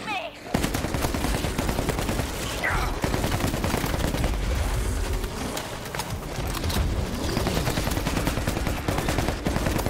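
Shotgun fire in the co-op zombie shooter World War Z Aftermath, relentless loud, close shots rattling almost without pause, with a player's voice talking over the battle.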